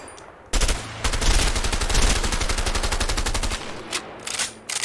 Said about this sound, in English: Try shooting at those empty houses.